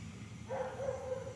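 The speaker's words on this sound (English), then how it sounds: "Is that the neighbor dogs" Neighborhood dogs, thought to be Siberian Huskies, give a short drawn-out bark or howl-like call at middle distance, rising suddenly partway through and holding over a low, steady background rumble.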